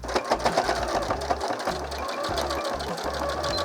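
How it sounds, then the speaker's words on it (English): A sewing machine stitches across the corners of a colour-blocked tote bag, its needle running in a steady, fast mechanical chatter. It pauses briefly between stitched runs, close up and alone. "now let's just sew it"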